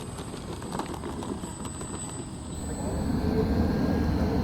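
A radio-controlled model airplane slips in to land outdoors, a thin distant engine whine and buzz with a tone that shifts and rises toward the end, faint over open-air background.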